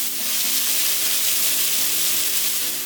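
Chopped garlic and leek fry in a pan with a dense, even sizzle, while a spoon stirs through it and a faint steady hum runs underneath.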